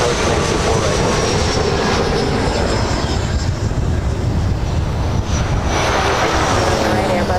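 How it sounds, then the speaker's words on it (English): A Northwest Boeing 757-200 airliner's engines roar loudly and steadily at LAX, with gusty wind buffeting the microphone throughout. "this is flight 976 heading to Atlanta. It's Northwest 757-200."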